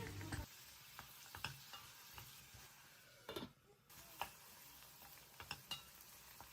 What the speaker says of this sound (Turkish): Tenceremin içerisine sıvı yağ ekledim ve ardından doğramış olduğum soğanları ekleyerek pembeleşinceye kadar pişiriyorum